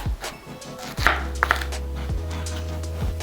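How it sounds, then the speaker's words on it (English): A knife cuts through a cauliflower being halved on a board, with a few close, sharp cutting knocks and crunches over a steady low hum. "first I'm going to slice the cauliflower in half"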